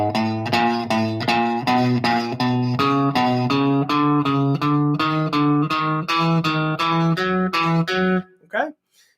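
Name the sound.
electric guitar playing first two bars of warm-up exercise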